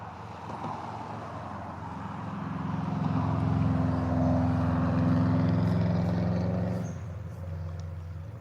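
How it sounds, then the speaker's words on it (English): Steady traffic rumble from cars and vehicles crossing a road bridge over a river at Potter Heigham, swelling as a heavier vehicle passes midway, then easing back to a continuous low drone. "Sorry about the road bridge being noisy with all the cars and stuff."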